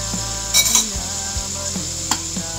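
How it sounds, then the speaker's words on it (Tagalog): Soy sauce hits chicken feet frying in a pan, a constant hissing sizzle with a brief louder splash and scattered clinks of a utensil against metal. "Lalagyan na natin ng soy sauce"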